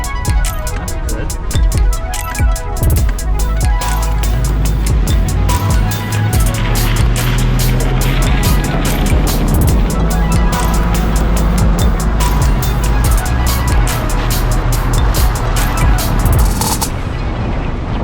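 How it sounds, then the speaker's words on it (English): Limousine engine pulling in second gear, a loud steady low rumble with rising revving and road noise throughout, close by. "Right into second gear, so she's not too mad."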